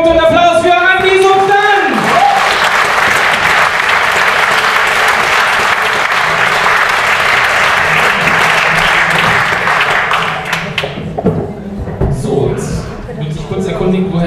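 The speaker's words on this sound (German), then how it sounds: "Und Applaus" Loud, sustained applause from a live audience at a poetry slam fills the room for about ten seconds, then thins out to a few scattered claps.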